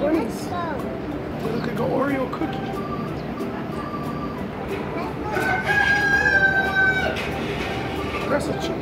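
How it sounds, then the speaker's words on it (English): Chickens on a farm, including a white one, crow and cluck amid outdoor background noise, with a longer crow rising near the middle; people talk over parts of it. "That's a chicken."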